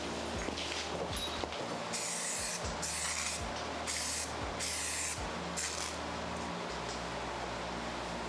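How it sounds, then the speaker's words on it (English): An aerosol spray can hisses in short bursts while cleaning a car's transmission tunnel, six or seven close, loud sprays of about half a second each over a steady low hum. "It's spraying some weird smudge."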